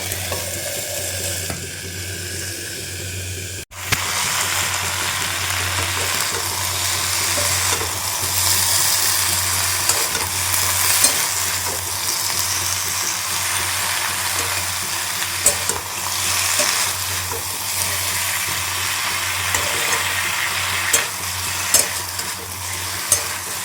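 Malabar spinach sizzles and crackles steadily in a hot pan, with occasional scraping as it is stirred, and no one speaks.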